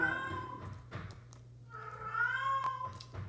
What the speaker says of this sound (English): If you know what that noise is in the background, that's my cat, actually.